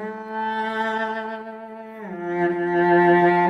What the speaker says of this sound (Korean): 활을 누르면 이런 소리가 나겠죠.